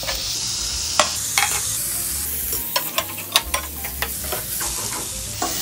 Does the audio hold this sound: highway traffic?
no